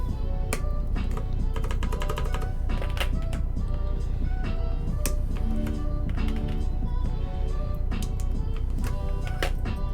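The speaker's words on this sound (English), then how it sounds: "I'll just start to put some keycaps on that don't need accents." Keycaps are pressed onto a mechanical keyboard in a run of crisp plastic clacks and snaps, some in quick bursts and others single, close-up over a steady low background hum.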